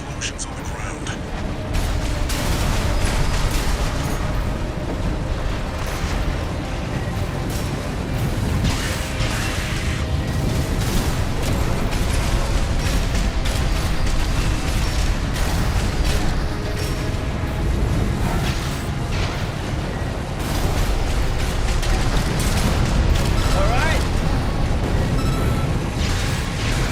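Armored Core 6 gameplay with dense, continuous rumbling explosions and mechanical combat noise, loud and sustained, with bursts layered over one another.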